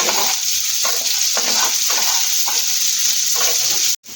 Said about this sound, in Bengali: চার মগজ আর গোটা চার পাঁচের কাঁচা লঙ্কাকে চিড়ে নিয়েছি এগুলোকে ওই তেলের মধ্যে একটুখানি দিয়ে ভেজে তুলে নেবো